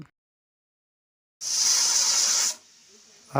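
A gas stove burner under a pressure cooker gives a steady, bright hiss for about a second after silence, then falls to a faint background hush, close by.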